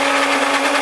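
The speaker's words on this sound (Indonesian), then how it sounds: "Tinggal blender seperti ini, hanya hitungan kurang lebih 10 detik saja sudah halus dan hancur sempurna." A blender churns a thick homemade ice pack mixture in a steady, loud, dense whir with no pauses and no voices.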